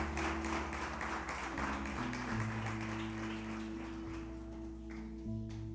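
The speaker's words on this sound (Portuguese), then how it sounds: "Dê uma salva de palmas a Jesus." A church congregation claps for Jesus during a Portuguese-language Communion service, a dense wash of applause carried under sustained keyboard chords that fades slightly toward the end.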